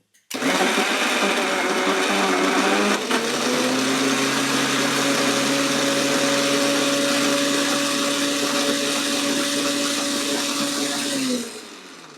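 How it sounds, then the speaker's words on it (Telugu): A mixer grinder blends raw mango with toor dal, a loud steady motor whir that drops slightly in pitch after a few seconds, runs continuously, then stops near the end. "ఒక్కసారి మిక్సీ పట్టుకుంటే సరిపోతుంది"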